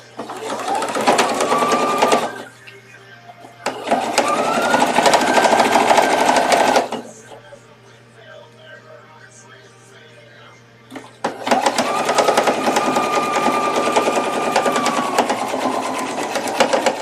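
Sewing machine rolling a hem on a Victorian evening dress, running in three loud sustained bursts with quiet gaps between, close and steady, with some speech nearby.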